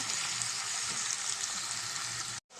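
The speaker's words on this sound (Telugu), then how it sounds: "ఇవి కూడా కొంచెం గోల్ కలర్లో వచ్చేదాకా మనం ఫ్రై చేద్దాం" Chicken leg pieces fry in a pan with a steady, dense, close sizzle that continues evenly, then cuts out briefly near the end before resuming.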